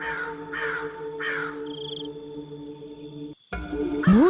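A crow gives three rough caws in quick succession, fairly close and loud, followed by a quieter stretch with a steady tonal hum and then a louder rising call at the end.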